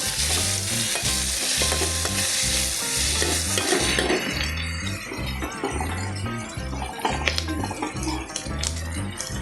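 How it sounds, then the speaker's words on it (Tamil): Onions sautéing in hot oil with green chili and curry leaves for hotel-style potato masala, a loud, continuous sizzle with repeated rhythmic scraping and stirring of a spatula against the pan, close by, without voices. "வெங்காயம் இந்த அளவுக்கு வதங்கிடுச்சு. நீங்கள் பச்சை மிளகா கருவேப்பிலையும் சேர்த்துக்கலாம்."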